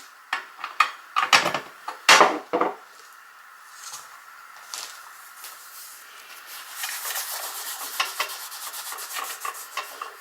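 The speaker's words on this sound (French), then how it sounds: "Je vais prendre la trousse, je vais y mettre un peu d'alcool. Pour bien nettoyer la surface." A pencil case surface is rubbed clean with alcohol, close soft scrubbing and wiping strokes, a few sharper swipes early on, then a quicker faint rubbing texture.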